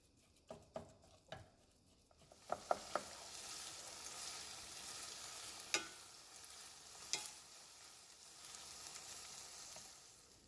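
Ground beef with garlic, Italian seasoning, salt and pepper sizzles in a pan as a steady, fairly quiet hiss after a few opening clunks, with occasional utensil taps and no talking.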